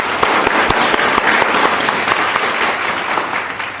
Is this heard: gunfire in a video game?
no